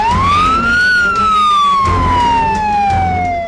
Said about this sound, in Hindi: उसके कानों तक पुलिस सायरन की आवाज पहुंची